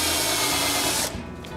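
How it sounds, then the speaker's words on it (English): A power tool whirs steadily while driving a screw into a wooden piece during an edge sander build in a woodworking shop, running loud and close for about a second before spinning down. "I still need to screw this in place."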